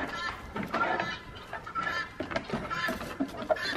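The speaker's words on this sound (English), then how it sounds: "Do you hear the birds far?" Chickens cluck and crow somewhere in a neighborhood outdoors, distant and fairly faint, repeating in short irregular calls over steady background noise.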